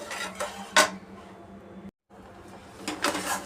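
Mawa (khoya) and milk being stirred in a pan over a slow flame, with intermittent metallic scraping and clinks of a spoon against the pan, near and moderately loud, plus a brief silent gap in the middle.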